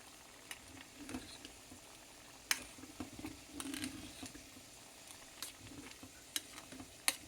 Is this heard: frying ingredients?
yes